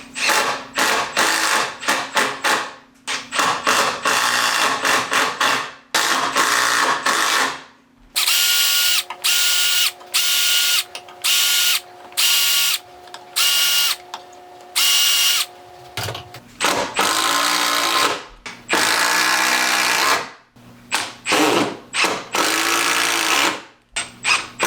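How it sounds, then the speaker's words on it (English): Impact driver sinking screws into a ceiling joist support in a 1930 farmhouse, loud bursts of whirring and rapid hammering clatter, with one long sustained run in the middle and short pauses between drives. "over to the impact driver to see if it'll be easier to get those things in there"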